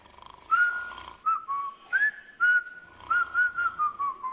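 A person whistles a short, wavering melody of separate bright notes with brief pauses between phrases, fairly quiet and alone with no talking.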